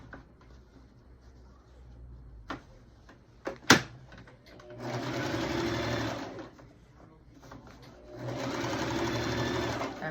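A sewing machine stitches a half-inch seam on a two-toned Dickies toddler dress, running in two steady bursts of whirring with quieter pauses, a sharp click and handling noises in between.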